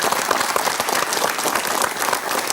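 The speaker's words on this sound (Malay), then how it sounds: "Kita beri tepukan kepada Datuk Seri." A studio audience on a television talk show claps for an honored guest, a brief, steady burst of applause with no voices over it.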